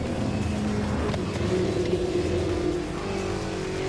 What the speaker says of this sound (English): just driving the Roadster Shop Rampage to victory at the end of the day